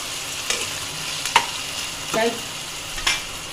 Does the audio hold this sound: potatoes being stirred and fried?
yes